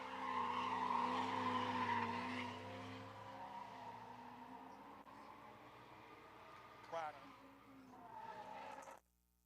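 An LS-swapped drift car revs hard at a drift pit, a loud rising engine wail with tyre squeal that fades into a rougher, quieter rumble and ends abruptly.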